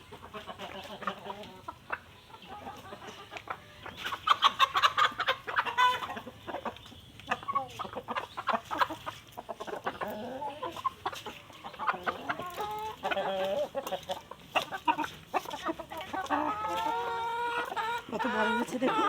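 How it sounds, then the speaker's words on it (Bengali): Desi chickens on a home poultry setup cluck and murmur in a busy, irregular chatter, several birds close by and growing louder midway, with a person's voice briefly mixed in. "এটা দেশি মুরগি"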